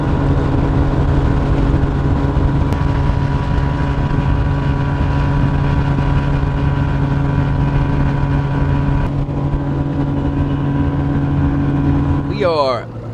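A boat motor idles steadily on a river, a low constant engine drone with even harmonics that holds throughout before a brief sharper sound near the end.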